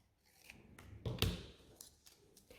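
Scissors snip through a paper shape, cutting it in half: a short, crisp cut near the middle, surrounded by faint paper rustling and handling in a quiet room.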